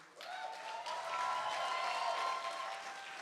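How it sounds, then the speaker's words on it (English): Applause from an audience at an Ignite Cincinnati event rises quickly and holds as a steady, moderately distant patter of many hands, with a faint tone running beneath it. "Let's hear a big round of applause for Joe Pantuso."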